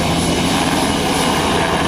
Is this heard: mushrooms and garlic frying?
no